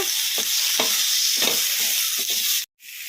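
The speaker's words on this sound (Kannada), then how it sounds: "ಒಂದೆರಡು ನಿಮಿಷ ಫ್ರೈ ಮಾಡ್ಕೊಂಬಿಡೋಣ" Ridge gourd, tomato and green chilli sizzle steadily in a hot pan, with a spatula scraping and stirring in a few soft strokes before a brief cut in the sound.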